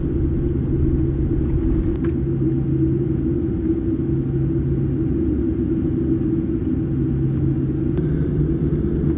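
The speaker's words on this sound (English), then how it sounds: "It's now time for takeoff on runway 20 center." A Korean Air Boeing 747-8 airliner beginning its takeoff roll, heard from inside the cabin as a loud, steady low rumble with a constant engine drone and a few faint clicks.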